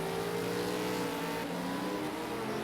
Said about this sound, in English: Oh, look at Darky's car sliding all over the place